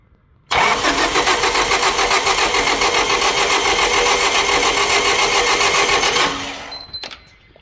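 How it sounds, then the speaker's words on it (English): Car engine with a broken camshaft cranking on the starter, a steady rapid chugging that runs for about six seconds close by and then stops abruptly with a few faint clicks. "You can crank and that thing wouldn't turn."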